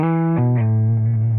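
An electric guitar played through a Flattley Centurion transparent overdrive pedal into an amplifier with spring reverb, a single sustained note sliding down in pitch with subtle saturation, clear and close.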